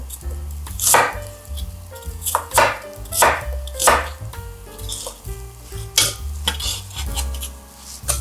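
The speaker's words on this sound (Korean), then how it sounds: "배하고 양파를 썰어서 믹서기에 담아줍니다." Rapid knife chopping of pear and onion on a cutting board, rhythmic bursts of firm thuds close by, with faint background sizzling and no talking.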